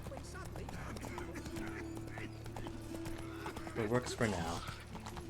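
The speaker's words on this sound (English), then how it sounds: "I can't tell if this canter is any faster than Geralt running" Geralt's horse canters in The Witcher video game, its hooves a rhythmic clip-clop that runs through the clip under steady talking by a nearby voice.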